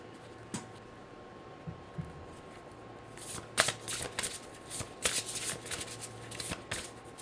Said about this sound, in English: I'm also going to shuffle the main card here for you and then get right into the reading